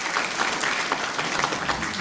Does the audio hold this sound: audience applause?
yes